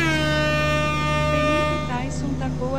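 A Volvo FH16 truck air horn in a truck driving video game blares in one long, steady, loud blast that bends in pitch as it fades, with a voice speaking over it.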